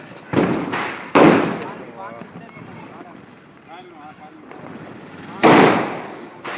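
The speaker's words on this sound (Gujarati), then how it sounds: "યુવાનો આપણા યુવાનો ફટાકડા ફોડી રહ્યા છે" Firecrackers set off by young people: three sharp, loud bursts, two close together near the start and one later, each with a crackling decay, while voices talk in between.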